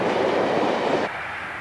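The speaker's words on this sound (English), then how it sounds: "The 754 connecting with the Belfast ferry is now leaving platform 9." A passenger train pulls away from a station platform, a steady loud rumble of rolling cars with wheel noise heard close by, dropping abruptly in level after about a second.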